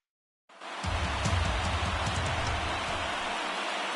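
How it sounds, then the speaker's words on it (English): Rain falls steadily on a ballpark in the baseball video game MLB The Show 19, a dense hiss with a low rumble that starts abruptly and keeps up evenly without talk. "Rain is falling, but we will have baseball for you."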